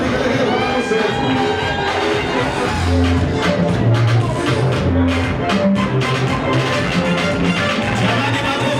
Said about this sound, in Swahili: Jamani, makofi na vigelegele kwa harusi wetu.